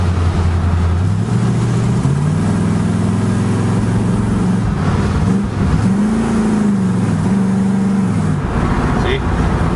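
A 1965 Ford station wagon's engine rises in pitch as it accelerates, then briefly dips and climbs again when the automatic transmission kicks down to a lower gear. The engine note is loud and steady throughout, heard from inside the car.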